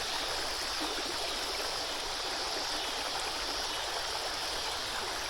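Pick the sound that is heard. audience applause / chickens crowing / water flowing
water flowing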